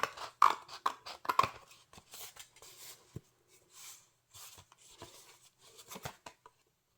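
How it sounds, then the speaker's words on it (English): Scissors snip through card stock in a few short, close cuts, with pauses and light handling clatter between them. "come in now with my scissors and trim that down"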